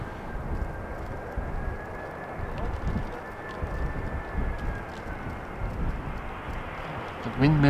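An airliner approaching Amsterdam Schiphol Airport, still high on its descent, passes as a steady broadband jet roar with a faint whine in a windy outdoor setting, holding level throughout before a brief louder rumble at the end.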